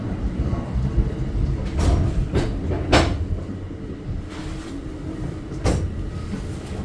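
An Exo commuter train rolls along, heard from the vestibule between cars: a constant low rumble and rattle, with sharp clanks and bangs at irregular intervals, close and loud.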